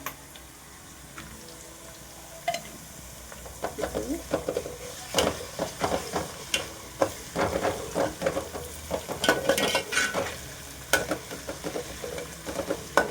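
Onions sautéing with ginger garlic paste in a pan: a steady, close sizzle broken by repeated scraping and stirring strokes of a spatula, growing busier and louder toward the end.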